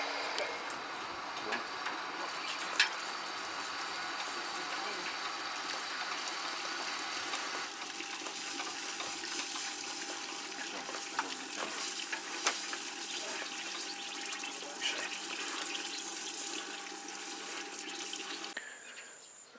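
Water pumped from an Abyssinian well drilled into quicksand gushes and splashes steadily for about twenty seconds, a dense, even rush with faint ticking clicks and no voices.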